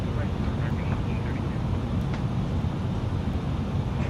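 An Airbus A320 touches down on a runway, heard as a steady, loud low rumble of engine and rolling noise with wind roar inside the cabin, while people talk faintly.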